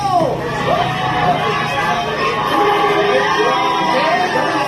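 Crowd of barangay residents in Manila shouting together in unison, loud and close, with cheering and whoops from adults and children filling the whole clip.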